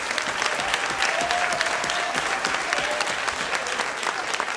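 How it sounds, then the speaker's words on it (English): Sustained applause fills a hall at a black-tie charity fundraising ball, a dense, steady clatter of many hands clapping at once with a faint murmur of the crowd beneath it. "give me a big round of applause for Wheeler Street and the staff"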